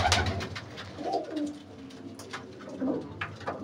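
Young pigeons coo in a rooftop loft setup, with soft repeated rolling coos close by and overlapping calls throughout.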